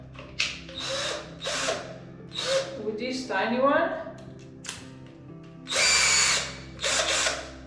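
A power drill bores into bathroom tiles in short, loud whirring bursts, revving up and stopping several times, with a person speaking briefly between the runs.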